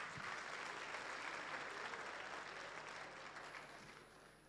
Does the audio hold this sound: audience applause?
yes